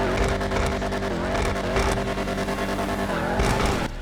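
A San Andreas Autos car in GTA 5 Online revs hard, a loud, dense engine drone that swells and dips in pitch across a few seconds, sustained and close with no talking.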